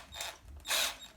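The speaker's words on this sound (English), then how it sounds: "loosen up the screws for the radio box" Screws on the radio box of a Team Corally Dementor XP 6S stunt truck (2021 version) loosened with a screwdriver, giving two short bursts of clicking, ratcheting mechanical noise, close and fairly quiet, with no talking.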